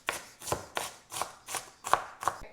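A knife chops an onion on a board in seven or so evenly spaced, crisp strokes, close and fairly quiet, with no talking.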